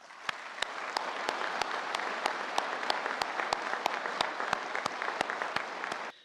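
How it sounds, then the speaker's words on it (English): Audience applause for sponsors at a military badge ceremony for international students, a steady even round of clapping with regular sharp claps standing out, moderately distant and sustained for several seconds. "Please join me in a round of applause for our sponsors"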